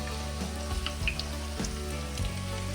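Potato tikkis fry in a pan with a dense, steady sizzle and crackle of hot oil, loud and close with no break and no voices.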